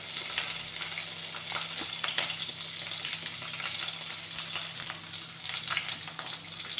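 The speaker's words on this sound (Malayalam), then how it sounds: "തേങ്ങ വറുക്കാൻ വേണ്ടിയിട്ട് ആദ്യം കുറച്ച് ഉള്ളി ഇടാം, ചുവന്നുള്ളി." Shallots and curry leaves fry in oil in a pan before coconut is roasted, giving a steady close hiss and sizzle with soft crackles throughout and no talking.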